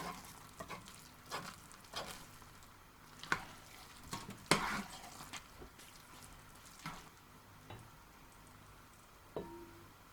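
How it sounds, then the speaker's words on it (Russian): Thick rice porridge (mashkichiri, an Uzbek rice dish) being stirred and scraped from the pot walls with a metal skimmer, giving soft bubbling sizzle with repeated scraping strokes and clinks, close and moderate. "Надо от стенок шумовкой отодвинуть."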